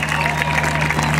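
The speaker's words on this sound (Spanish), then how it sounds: "¡Fuerte el aplauso!" Crowd applause at a rodeo in a stadium arena, a steady wash of many hands clapping with a sustained band tone underneath, loud and continuous throughout.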